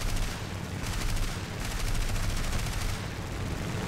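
Aircraft guns in War Thunder fire in dense, sustained bursts, a loud rattling stream that pulses in waves with brief gaps, no talking over it.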